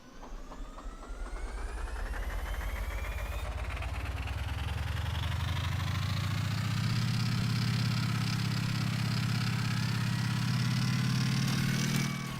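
A motorcycle engine runs in the vehicle-building game Gearblocks as a steady, droning mechanical hum that rises gradually in pitch and holds loud and continuous throughout, with no talking.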